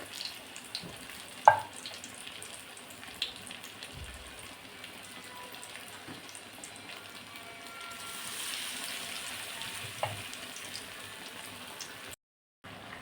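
Sweet corn bread triangles deep-frying in hot oil, a steady soft sizzle and crackle with a few sharper pops, fairly close and alone.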